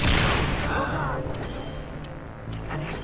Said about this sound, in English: An explosion! In case you hadn't deduced that already.